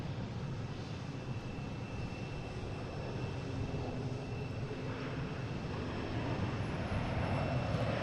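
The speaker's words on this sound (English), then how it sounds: "Coming in from Dublin, A330-300" An Airbus A330-300 arriving from Dublin approaches Boston Logan, a steady distant jet roar with a faint high engine whine, continuous and unbroken.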